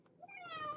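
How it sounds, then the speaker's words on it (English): One of several cats gives a single drawn-out meow, close but soft, that rises in pitch and holds briefly in a quiet room. "So many cats."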